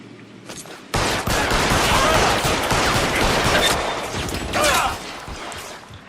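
A sustained burst of rapid gunfire in the 1940s Los Angeles detective game L.A. Noire, starting abruptly after a brief pause and rattling on loudly for several seconds before tapering off.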